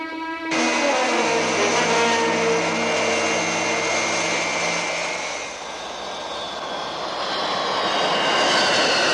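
A fixed-wing aircraft engine starts abruptly and roars loudly and continuously, with a sustained droning whine that dips slightly midway before swelling again.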